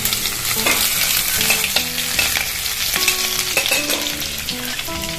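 Curry leaves fry in hot oil for kolukattai, a loud, continuous sizzle broken by repeated stirring scrapes and clinks of a utensil against the pan, with no talking.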